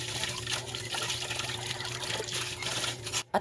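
Tap water runs steadily while a new drinking glass is rinsed and washed, a continuous close splashing trickle that stops abruptly near the end.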